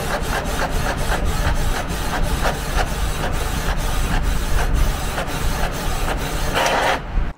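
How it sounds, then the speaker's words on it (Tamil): A Canon E477 wireless home printer printing a colour page: steady rhythmic mechanical passes of the print head, loud and close, repeating for about seven seconds before a short whir at the end, with no talk. "ஒரு கலர் பேஜை பிரிண்ட் அவுட் எடுத்து பார்ப்போங்க"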